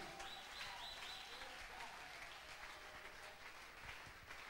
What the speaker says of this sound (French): Donnez-lui les acclamations.